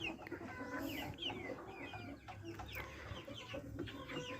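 Chickens cluck and chatter inside a coop on a small farm, a dense overlapping flock of soft calls and occasional higher squawks, steady and moderately near with no talking.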